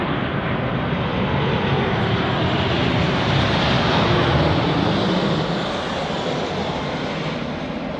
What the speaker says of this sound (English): Another Ryanair touching down